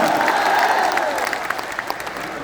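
Audience clapping at a political rally in Bihar, a dense, sustained round of applause from a crowd, with a voice ringing out faintly over the top.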